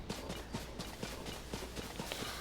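Horses' hooves clip-clop in a steady, brisk rhythm, faint and somewhat distant, beneath ambient wind and outdoor game sounds near a lynel in a Zelda video game.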